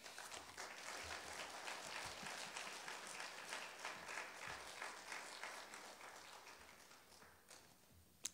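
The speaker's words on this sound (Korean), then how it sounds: "우리 우렁찬 같은 큰 박수로 우리 목사님을 환영하도록 하겠습니다" A church congregation at Sunday worship applauds to welcome the pastor to the pulpit, a steady wash of many hands clapping that stays fairly even before thinning out near the end, heard at a distance and somewhat faint.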